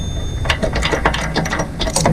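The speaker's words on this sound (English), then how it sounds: "This little puller is doing a good job." A small puller works a coupling off the short keyed pump shaft of a cheap, non-running log splitter, giving a close, continuous grinding and ratcheting mechanical clatter.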